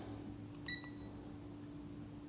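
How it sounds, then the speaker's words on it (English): A single short electronic beep from a timer sounds once, faint against a steady low hum in a quiet room. "I have the timer from my 24-hour live stream, which I use actually now in work"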